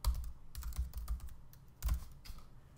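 Computer keyboard typing of a username and email address, quick irregular clusters of key clacks at close range with short pauses between bursts.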